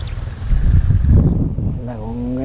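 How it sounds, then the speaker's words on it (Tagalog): Strong wind at sea buffets the microphone in heavy low rumbling gusts, with a brief voice briefly rising near the end. "Grabe pong hangin no."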